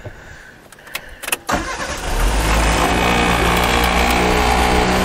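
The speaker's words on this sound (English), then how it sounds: "I did put a brand new locking choke in, so the car is phenomenal to start" A 1978 British Leyland Clubman Estate fitted with a new locking choke cranks briefly with a few sharp bursts, then catches and settles into a loud, steady idle up close that carries through to the end.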